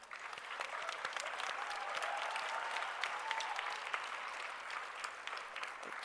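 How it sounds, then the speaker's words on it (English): Applause from an audience at a graduation ceremony for a Human-Centered Design batch, dense and sustained clapping from a large crowd that holds steady throughout. "Those who are here, please stand up so that we can applaud you."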